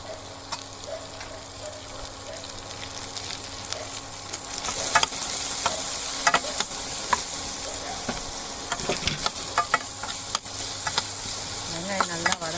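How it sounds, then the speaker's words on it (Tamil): Finely chopped onions frying in a pan for kari dosai, a continuous sizzle that grows louder midway, punctuated by sharp spatula scrapes and clinks. "வெங்காயம் நல்லா வதங்கணும்."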